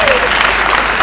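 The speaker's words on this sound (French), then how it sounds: "je vous invite d'ailleurs à l'applaudir" Audience applause for the Father Rector at an opening jubilee Mass in a chapel in Lubumbashi, a dense wash of many hands clapping, loud and continuous.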